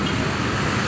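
Dense roadway traffic noise with a broad engine rumble and hiss, steady and moderately loud, as a bus arrives amid traffic on a trip from Pondok Ungu toward Kutoarjo.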